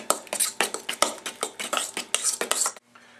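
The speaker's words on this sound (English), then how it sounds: "Stir that in." A utensil stirring beans and other ingredients for a seven layer taco dip in a dish, a quick rhythmic series of clinks and scrapes, close and clear, ending abruptly.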